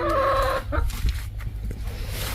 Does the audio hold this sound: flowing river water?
no